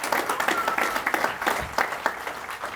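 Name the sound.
audience applause for concert band vocalists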